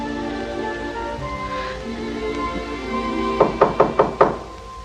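Five sharp knocks land on a wooden door in quick, even succession near the end, loud and close, following a stretch of quiet room tone and faint low sounds.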